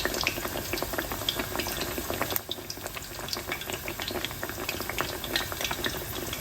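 Thick fish cakes fry in hot oil, giving a steady dense bubbling crackle close by that runs on without a break and with no talk over it.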